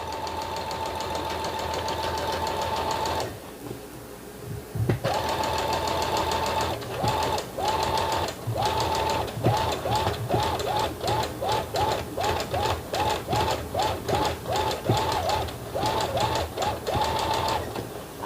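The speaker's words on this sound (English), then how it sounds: "I like to pulse the sewing machine when I'm going on a curve" A home sewing machine stitching a gingerbread man craft, running in short repeated pulses along a curve after an initial steady run; the motor whirs loudly and close, with brief pauses between bursts.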